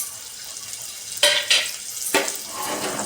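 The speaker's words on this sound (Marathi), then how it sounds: "तेजपान टाकल्यानंतर कांदा टाकायचा" Onion dropped into hot oil with bay leaf in a pan, a few loud splashy bursts of sizzle and clatter rising over a constant background hiss.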